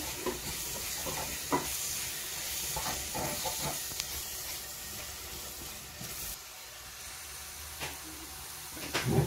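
Spices frying and sizzling in a pan with berbere while being stirred for zucchini sauce, a steady hiss with scattered scraping stir strokes, close and continuous.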